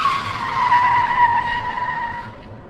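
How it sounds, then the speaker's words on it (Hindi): A car brakes hard into a long, loud tire squeal that holds steady for over two seconds and then fades, with no voices over it. "प्रणव ने गाड़ी के ब्रेक लगा दिए"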